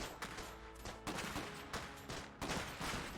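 Rapid bursts of gunfire in the real-time strategy game Iron Harvest, with repeated volleys and sharp shots layered over a dense battle din, loud and continuous with no talking.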